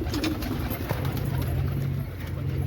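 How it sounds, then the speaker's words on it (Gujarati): Pigeons in a breeding setup coo softly and repeatedly at moderate distance over faint background noise. "આપણે ખોલ નાખ્યા કબૂતર"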